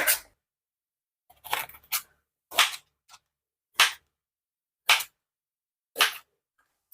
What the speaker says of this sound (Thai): เดี๋ยวเราจะมาหั่น ขิงกันนะคะ